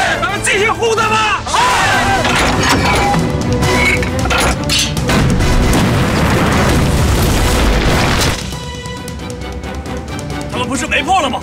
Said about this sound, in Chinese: 以前打的都是训练的，这真炮真的娘的响啊